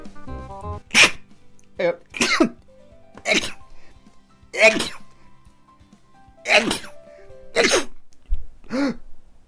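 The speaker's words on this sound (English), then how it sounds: "I'm gonna sneeze" A series of sharp, explosive sneezes or sneeze-like bursts, about eight in a row, close and loud, separated by brief quiet gaps.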